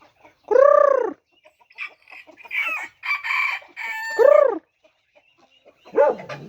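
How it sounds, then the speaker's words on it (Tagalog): Free-range Rhode Island Red chickens cluck and call in loud bursts with pauses between, and a dog barks in the mix. "yung ating mga manok na Rhode Island Red"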